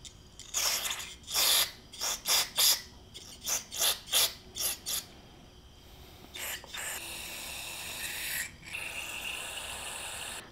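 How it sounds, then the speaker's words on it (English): Carbon choke spray hisses into the carburetor of a dead lawn mower in a string of short, sharp bursts, about a dozen close puffs in an uneven rhythm, then a longer steady spray before it stops. "I'm going to just spray a little bit right in there."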